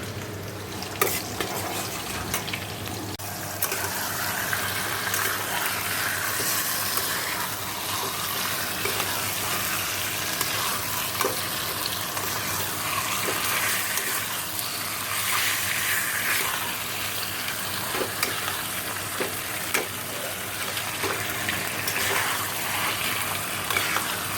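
Meat frying with spices in a pan, a steady, close sizzle and bubbling that runs unbroken throughout with occasional small clinks of stirring.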